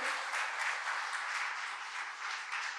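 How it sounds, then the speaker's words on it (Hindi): Steady applause from an audience at a parenting talk, even and continuous throughout at moderate distance, with no voices over it. "बहुत जोर से तालियां"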